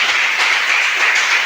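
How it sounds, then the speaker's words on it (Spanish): A church congregation applauds together in a dense, steady wash of clapping that holds evenly throughout, with no voices above it. "Dale un aplauso a Jesucristo"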